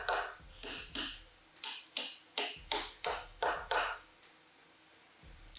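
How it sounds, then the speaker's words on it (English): A hammer taps bolts home into a restored classic cast fly press, giving about eleven sharp, evenly spaced metallic knocks that ring briefly and close by, followed by a quiet pause and one final knock. "Then tap the bolts home that I obviously did an amazing job of lining up."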